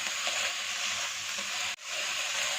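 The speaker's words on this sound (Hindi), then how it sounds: "इसे 2 मिनट के लिए अच्छी तरह से भून लेंगे।" Capsicum pieces frying with chicken in a pan over medium heat, a steady soft sizzle that stays even and fairly quiet, with a brief dropout near the end.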